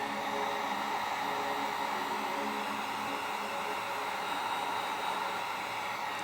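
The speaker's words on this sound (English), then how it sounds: "the heat gun is just going to smooth out that surface" A heat gun blows a steady, close, even hiss of hot air over the surface of a wax melt, with no break and no talking.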